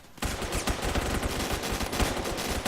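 Rapid automatic gunfire in the Roblox shooter Phantom Forces, a dense, loud stream of close shots with a steady rhythm that runs nearly nonstop after a brief quiet start.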